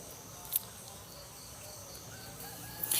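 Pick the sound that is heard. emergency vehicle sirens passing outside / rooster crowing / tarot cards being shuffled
rooster crowing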